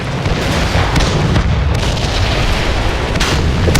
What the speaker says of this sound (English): little spectacular fireworks